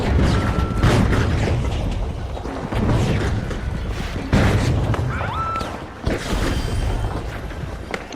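Mine explosion in the video game The Finals, heavy booming blasts with rumbling debris amid loud continuous combat noise, several strong bursts spread across the stretch, no speech.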